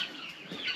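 Chickens cluck inside a chicken house, a brief close burst of clucking over a faint background.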